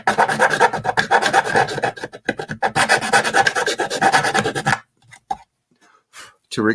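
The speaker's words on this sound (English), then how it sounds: "I take a nice round bastard file and radius and deburr this edge" A round bastard file rasps against a workbench edge to radius and deburr it, in quick rhythmic scraping strokes for several seconds before a few scattered, quieter scrapes.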